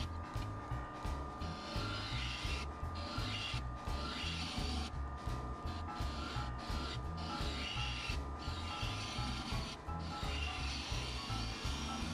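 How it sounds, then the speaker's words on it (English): A one-inch negative rake scraper working a fir bowl on a wood lathe at 1500 RPM, giving a continuous rasping scrape over the steady low drone of the lathe, with regular brief dips in the cutting noise. "1500 RPM, 1-inch negative rake scraper."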